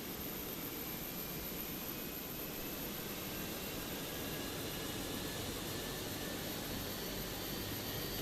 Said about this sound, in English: Engine 2 or engine start, switch to start position. Go ahead, start number 2.